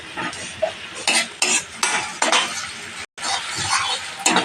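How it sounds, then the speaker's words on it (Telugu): Ginger garlic paste frying in oil for a mutton liver dish, with a spoon stirring and scraping against the pan in quick repeated strokes over a light sizzle, close and clear with no talk. "2 స్పూన్లు వేసుకొని నూనెలో మంచిగా ఫ్రై చేసుకోవాలి."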